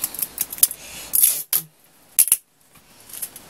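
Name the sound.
adhesive tape being wrapped on wire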